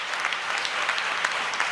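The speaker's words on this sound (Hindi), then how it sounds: "पूरा सदन ताली बजा के बताए" An entire assembly hall breaks into sustained applause, many hands clapping densely and steadily throughout with no pause, a broad close crowd sound.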